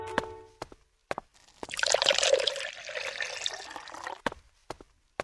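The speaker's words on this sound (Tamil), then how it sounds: "கெமிக்கல் இப்ப ஜார்ல ஊத்துப்பா" Liquid chemicals poured into a jar in an animated cartoon, a trickling, splashing pour lasting a couple of seconds, framed by brief clicks and drips on either side, with no talking.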